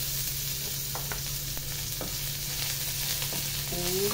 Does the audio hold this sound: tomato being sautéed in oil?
yes